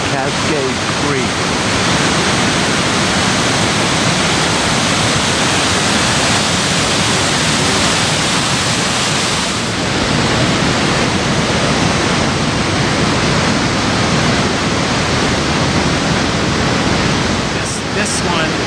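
The waterfall on Cascade Creek in Yosemite roars as a loud, continuous rushing wash of water, close and unbroken throughout.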